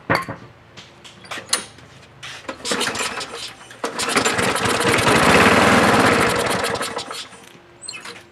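A Craftsman lawn mower, freshly repaired after a broken flywheel key, gets several sharp pull-cord tugs and clunks before its small engine catches and roars loudly for a few seconds, then winds down, close up with no talking.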